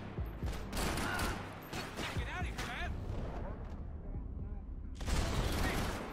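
Gunfire in the video game Max Payne 3, dense bursts of shots and blasts layered with game effects, loud and close, with a voice talking over parts of it.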